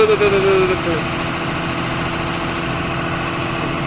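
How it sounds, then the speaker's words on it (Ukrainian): An engine being revved, heard as a steady, close, low rumble with a slight rise at the start and faint voices in the background. "Газу даєте."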